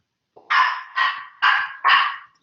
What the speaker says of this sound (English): I hear your doggy in the background.